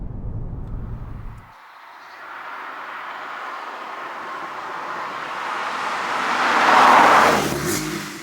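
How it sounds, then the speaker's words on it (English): A Porsche 911 991.2 Carrera S passes by with its engine revving, the sound swelling from a quieter approach to a loud, raucous peak near the end. "it has a wonderful, lively, raucous soundtrack"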